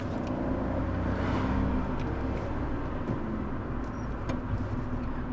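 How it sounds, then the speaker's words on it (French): A car accelerates steadily from inside the cabin, engine and road noise forming a continuous rumble as it shifts into third gear, with no clear gear-change break standing out. "Allez, on accélère et on met la 3."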